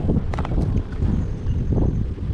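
Heavy wind buffets the microphone while someone rides a ROVORON R7 Pro electric scooter outdoors, a loud continuous rumble with gusty low-frequency thumps throughout and no talking.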